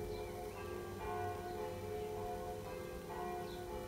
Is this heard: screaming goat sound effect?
no